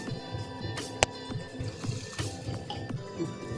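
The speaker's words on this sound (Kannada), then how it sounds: "ಈಗ ಮಿಕ್ಸ್ ಮಾಡಿ ನೀರು ಹಾಕಿ ತೊಳ್ಕೊತೀನಿ." Water sloshing and dripping as mixed lentils are rinsed by hand, with soft squishy swirls and a sharp clink partway through, close up.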